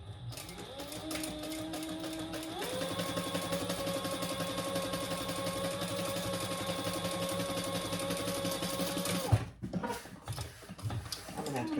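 A sewing machine stitches the bottom seam of an eyeglass case, running as a steady mechanical whir whose pitch steps up after a couple of seconds, then cuts off near the end with a clunk and some handling noise.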